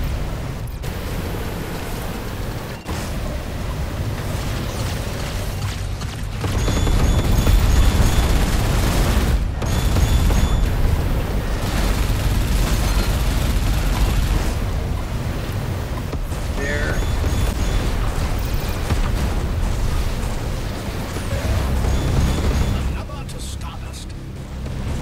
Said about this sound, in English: Now we're using the flat cannon right now.